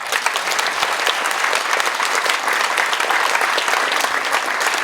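A theatre audience applauds, dense crowded clapping that stays loud and even, with no break.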